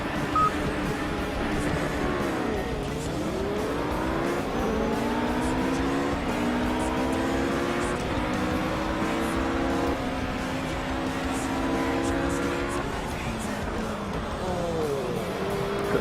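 Race car engines in the Project CARS video game rev and shift continuously, with rising and falling pitch as several cars accelerate together, loud and close throughout.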